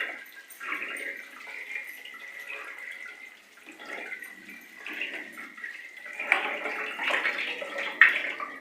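Water splashes and trickles as peeled taro (colocasia) leaves are rinsed again before cooking, with a low, steady wash and a few louder sloshes near the end. No one speaks.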